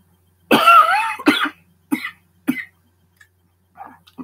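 A person coughs several times in quick succession, a big harsh cough followed by shorter ones, close and loud in a quiet room, with a faint throat sound at the end.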